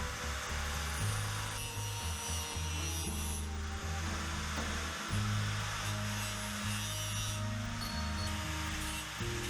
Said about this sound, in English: an angle grinder with a cutoff wheel works just fine